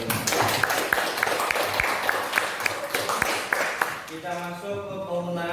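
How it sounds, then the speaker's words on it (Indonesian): A classroom of students gives applause for a student group, a dense burst of many hands clapping close by that fades near the end as a voice starts talking. "Beri tepuk tangan untuk kelompok"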